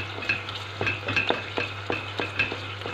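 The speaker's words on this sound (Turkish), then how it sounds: "Kavruluyor. Şimdi ben salça koyuyorum." Tomato paste sizzles as it fries in a pan for stuffed mallow leaves, with a spoon scraping and stirring through it in irregular strokes over a steady low hum, close and moderately loud, with no talk.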